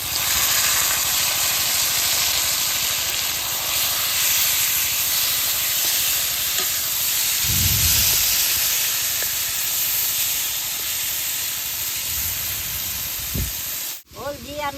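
Taro leaves hit a hot pan with chillies and deeply burnt garlic, raising a steady loud hiss of steam and frying that runs throughout, with a few brief louder bursts and a clatter near the end.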